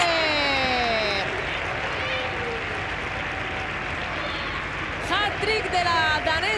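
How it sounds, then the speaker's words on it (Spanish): Applause from the crowd at the Di Stéfano stadium after a women's Champions League hat-trick goal, a steady broad roar of clapping throughout with a commentator talking over it and a few whistles near the end. "este aplauso del Di Stéfano"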